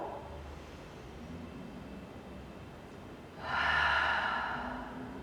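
A slow breath drawn in and pushed out during a spine mobilisation exercise with a ball behind the back. The air rushes close and soft over faint background hum, with no talk during it.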